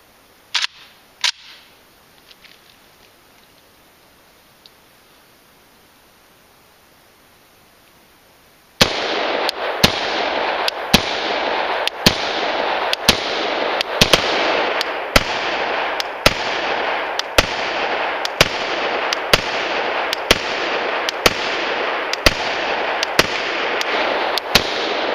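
Rapid-fire shots from an Arsenal SLR 106 UR AK-pattern rifle ring out loud and close, about twenty sharp cracks in a steady rhythm after several quiet seconds with a few faint clicks.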